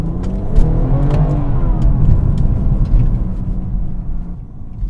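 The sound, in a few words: Dinan BMW 340i xDrive car accelerating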